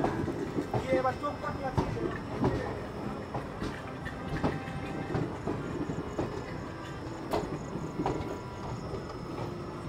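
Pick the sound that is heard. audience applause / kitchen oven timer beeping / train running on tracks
train running on tracks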